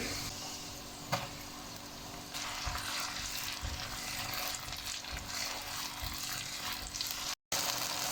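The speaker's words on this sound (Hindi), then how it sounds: "तीन से 4 मिनट हम सब्ज़ मिर्चों के पेस्ट को अच्छी तरह फ्राई कर लेंगे" Ground paste of green chillies fries in a pan for a minced meat and bell pepper dish, giving a steady, close, dense sizzle with a few light stirring scrapes and no talking.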